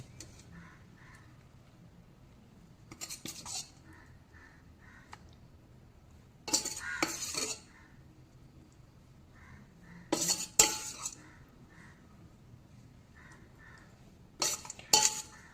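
A metal kitchen sieve set onto a bowl for straining a homemade gray-hair remedy, heard as a few short, separate clinks and scrapes spaced apart against a quiet room.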